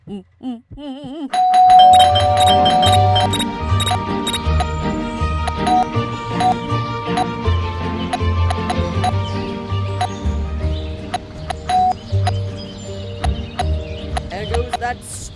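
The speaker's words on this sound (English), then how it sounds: "There goes that stupid bell again." A doorbell chimes repeatedly in the video game Scary Teacher 3D, bright tonal rings over steady game music, with a short burst of voice at the start.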